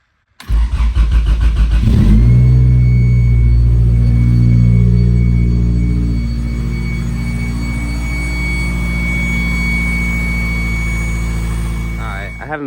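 A 1990 Acura Integra DA9's rebuilt engine starts for the first time: a loud crank catches almost immediately, rises into a strong rev, then settles into a steady, slightly lower idle that runs to the end.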